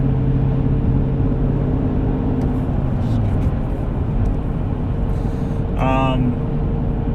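A 2019 Dodge Challenger R/T Shaker with a six-speed manual cruises in fifth gear at just under 2,000 RPM, a loud, steady low engine drone and road rumble filling the cabin while someone talks over it.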